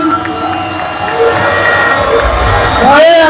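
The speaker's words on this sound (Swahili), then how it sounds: "tupigie makofi yuko Liboni" A crowd at a Yanga club gathering cheering and shouting for the club sponsor, loud and close, with whoops rising toward the end as a voice carries over the noise.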